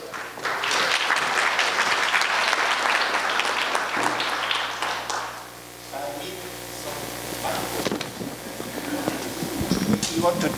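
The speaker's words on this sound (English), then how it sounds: "Please applause" An audience at an awards gala in Katowice applauds the president of Construction 21. The clapping is dense and loud at first, then thins out while a voice speaks over the fading applause.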